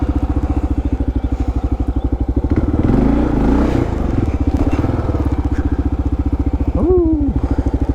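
A Kawasaki KLR650 motorcycle pushes through woods near Sam Rayburn in Broaddus, Texas, its engine thudding in a steady close pulse while branches crackle and crunch loudly partway through.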